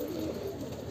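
A pigeon coos softly in a brief, low, throaty murmur against steady background noise.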